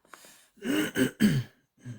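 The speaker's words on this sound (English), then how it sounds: "So now you got to hear me clearing my throat out." A man clears his throat in a few rough, rasping bursts, close to the mic, followed by a short softer throat sound after a pause.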